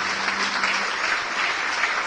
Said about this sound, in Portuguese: vamos aplaudir o Senhor Jesus por cada vida que está chegando